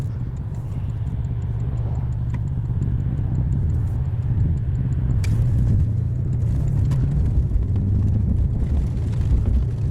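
Porsche 997 Turbo cruising through a neighborhood with its exhaust shut off: a steady low road rumble and tire noise, with small rocks ticking and pinging against the underside.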